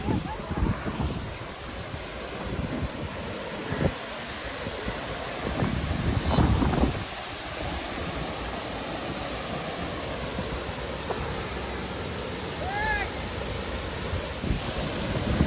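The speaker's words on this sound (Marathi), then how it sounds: "छोटासा हा डॅम आहे 3 विरा डॅम, पूर्णतः फुल झालेला आहे बघा." Water pours steadily over a small, completely full dam near Kankeshwar, Alibag, in a broad continuous rush with gusty wind buffeting the microphone and faint voices or birds in the background.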